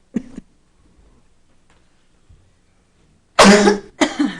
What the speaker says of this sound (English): I'm probably going to have cough, sorry.